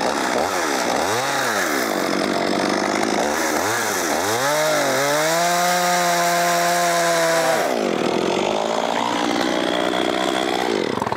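Chainsaw cutting chunks out of a tree to free an abandoned 1968 Saab 96 embedded in it, loud and close, with the engine revving up and down in repeated surges, then holding a steady high whine before dropping to idle.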